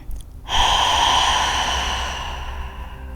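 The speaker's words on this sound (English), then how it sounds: "And one more big breath out." A big open-mouth exhale during yoga breathing practice, one long breathy rush of air that starts abruptly and slowly fades, heard close and alone.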